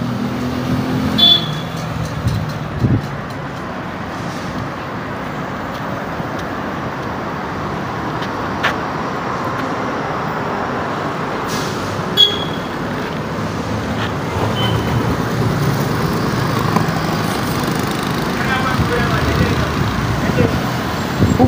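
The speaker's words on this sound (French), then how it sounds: "Je vous montre la circulation." Steady road traffic flows past the Yopougon interchange construction on the Palais route, with continuous roadway noise from cars and trucks, occasional reversing beeps and passing engines, loud and close throughout.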